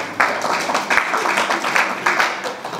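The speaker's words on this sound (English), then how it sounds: "give yourself a round of applause" Audience at a mentalism performance clapping in a short, moderately loud burst of applause with uneven clap textures throughout.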